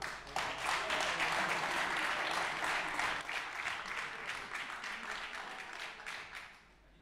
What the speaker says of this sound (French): Je vous demande d'applaudir l'intendant Loïc Châtelain